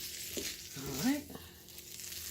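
Noodles with shrimp and spices fry in oil for a shrimp and asparagus stir fry, giving a soft, steady sizzle with a few stirring scrapes, and a voice briefly talks over it.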